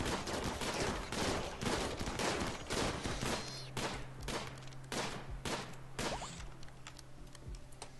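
Rapid bursts of gunfire from the colony game RimWorld crackle densely, shots layered into a continuous fusillade that thins into separate volleys, with a low steady hum underneath and no talk.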